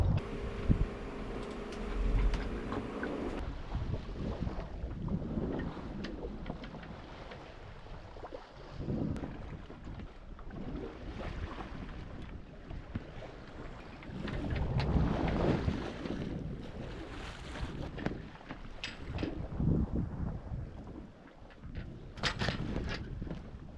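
Continuous wind buffeting and rushing water against a sailboat hull in choppy, short-period side-on swell, with irregular swells of louder gusts and splashes, no voices.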